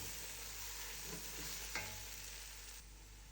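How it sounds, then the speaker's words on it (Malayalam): Crushed garlic sautés in a pan for mutton biryani, giving a soft, faint sizzle with a brief stirring scrape partway through. "ഇനി ഇതിലേക്ക് ചതച്ച് വെച്ച വെളുത്തുള്ളിയും കൂടി ചേർത്ത് പച്ചമണം മാറുന്നത് വരെ നന്നായിട്ട് വഴറ്റിയെടുക്കണം കേട്ടോ"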